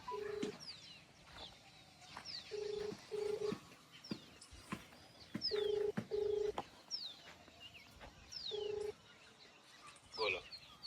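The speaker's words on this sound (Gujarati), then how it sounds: "ફોન લગાવી દીધો છે જયરાજને." An outgoing phone call rings through a handset as short, repeated paired tones, fairly faint, with birds chirping in the background and occasional brief sounds of a voice.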